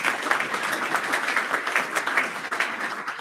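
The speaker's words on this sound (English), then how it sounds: "Let's give him a round of applause as he approaches the stage" Audience at the California-Africa Climate Summit clapping steadily as a guest walks to the stage, a dense, even wash of applause throughout.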